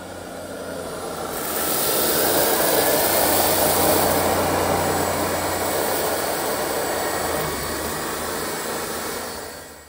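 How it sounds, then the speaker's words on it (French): Vacuum cleaner whooshing up to a louder, higher-pitched roar, then holding a steady strong hiss of suction before easing slightly. "l'aspirateur capte la quantité de déchets et augmente donc sa puissance pour bien tout aspirer"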